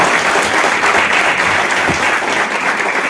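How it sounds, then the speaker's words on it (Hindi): Dense, steady applause from a seminar audience in a government college hall, sustained at an even, loud level throughout with no voices standing out. "तालियों में दम नहीं है, मैं एक बार फिर कहना चाहूंगा"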